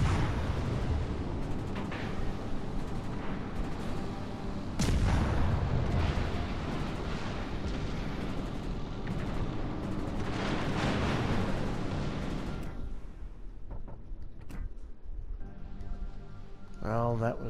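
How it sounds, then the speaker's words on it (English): Torpedo hits explode against a ship in a naval warship video game, heavy booming blasts rumbling through dense battle noise, with a voice talking over it. "Nope, one torpedo hit."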